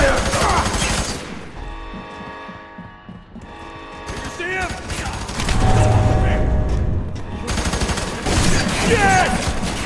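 Gunfire crackles in the online co-op shooter F.E.A.R. 3 on PS3, with rapid bursts and booms mixed into dense combat noise while voices talk over the action.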